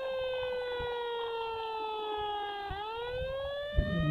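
A fire engine siren in a simulation video game wails steadily, a loud continuous tone that dips and rises once in pitch, with faint clicks near the end.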